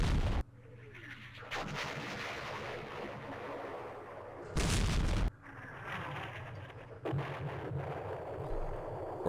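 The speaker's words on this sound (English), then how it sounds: "All of our heavy artillery is here, and these are the mortars that are landing." Mortar and heavy artillery rounds land in a Vietnam-era wargame, making a dense, continuous rumble of rolling booms at moderate loudness, broken by sharper bursts of impact.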